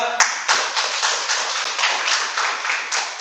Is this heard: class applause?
yes